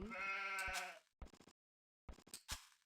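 Sheep bleating in the video game Age of Empires II, one drawn-out bleat followed by several short clipped bleats separated by silence, clean and close with no talk.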